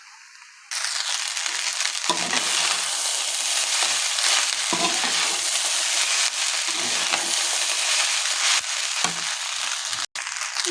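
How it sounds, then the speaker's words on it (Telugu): Egg pasta being stirred with soy sauce in a pan, a steady loud sizzle with repeated scraping and clattering of the utensil against the pan, running almost continuously, without speech. "సోయా సాసు ఇది మొత్తం బాగా కలుపుకోవాలి."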